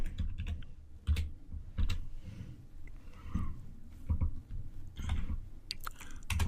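Typing on a computer keyboard while coding, with irregular clusters of clicky keystrokes and short pauses, fairly close and moderately loud with no talking.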